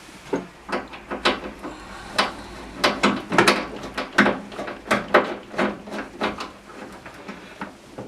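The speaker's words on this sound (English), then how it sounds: "I'm just going to take these two screws out." Screws are backed out on a Main Eco Elite combi boiler during expansion vessel replacement, a series of sharp, rapid ratcheting clicks in uneven bursts, close and fairly quiet.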